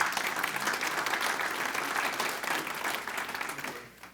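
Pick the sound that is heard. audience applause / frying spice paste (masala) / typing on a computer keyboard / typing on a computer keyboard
audience applause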